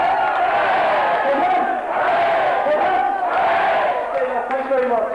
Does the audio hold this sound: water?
no